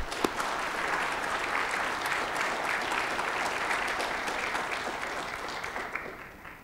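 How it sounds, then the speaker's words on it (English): An audience at a conference panel on the Ukrainian displacement crisis gives a steady round of applause, moderately distant and sustained for several seconds before thinning out at the end. "I think we owe him a round of applause"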